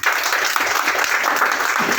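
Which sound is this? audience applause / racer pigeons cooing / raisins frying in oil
audience applause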